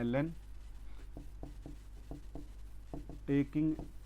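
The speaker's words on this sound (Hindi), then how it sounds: "यहां लिखता हूं" Chalk or marker strokes on a board during a chemistry lecture on chemical kinetics, a series of short, quiet taps and scratches in an uneven rhythm, with a voice speaking briefly at the start and end.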